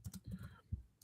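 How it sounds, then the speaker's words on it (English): Fingers tap on a computer keyboard in a quick, irregular run of close, crisp clicks, heard alone with no talking. "All right, Sal, you're plucking away there on the keyboards"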